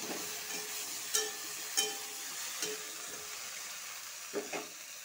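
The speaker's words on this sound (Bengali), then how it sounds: "সাথে ভালো করে নাড়াচাড়া করবো।" Okra frying in a pan, stirred through a steady crackling sizzle, with several distinct scraping strokes of the utensil spaced through the few seconds; no voices.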